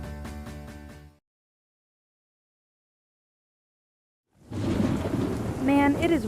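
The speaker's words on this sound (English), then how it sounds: "It can handle this downpour." A heavy downpour with rolling thunder, staged as the storm effect in a radio advertisement, starts loud, cuts to silence, then returns as dense, loud rain with a tonal sweep layered over it.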